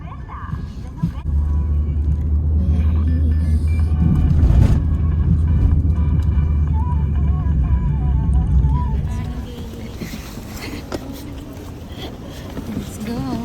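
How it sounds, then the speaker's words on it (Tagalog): Road traffic in Boracay passes as a heavy low engine rumble that swells over several seconds and then eases off, with voices chatting over it. "Dito nagka-traffic din."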